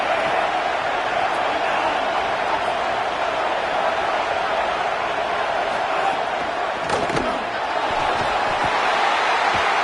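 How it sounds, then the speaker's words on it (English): A packed stadium crowd in an NCAA Football video game roars in a dense, continuous wash of noise that holds steady for about ten seconds, with no clear speech. "And listen to this crowd."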